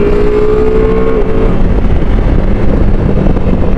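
A 2025 Ducati Multistrada V4S adventure motorcycle's V4 engine under way, a loud steady drone with a short rising tone that drops off, mixed with heavy wind rush over the microphone.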